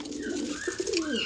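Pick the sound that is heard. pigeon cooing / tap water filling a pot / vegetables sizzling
pigeon cooing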